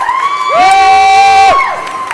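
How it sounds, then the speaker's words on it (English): A youth crowd at a 13U ice hockey state semifinal erupts after a goal, with loud, shrill cheering and high whoops that swell for about a second before fading back. "The crowd goes crazy."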